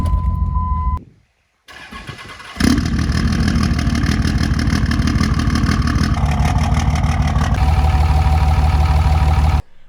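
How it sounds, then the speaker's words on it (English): Cummins diesel truck engine cranks, stops briefly, then starts and settles into a loud, steady close-up idle with a rough low rumble. "start the truck up"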